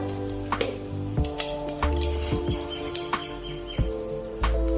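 Curry leaves and cumin crackle and sizzle in 2 to 3 spoons of hot oil for a mixed vegetable dish, with sharp pops and spits breaking over a steady hiss.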